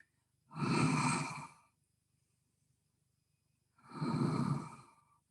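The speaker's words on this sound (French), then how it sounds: "Soufflez sur l'ouverture, inspirez sur la fermeture." Two slow, breathy exhalations during a gentle gym exercise session, each lasting about a second, close and clear with near silence between them.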